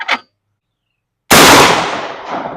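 A single loud 12 gauge Remington slug shot fired at a board on an outdoor range, a sharp blast that starts abruptly and then trails off into a long decaying echo.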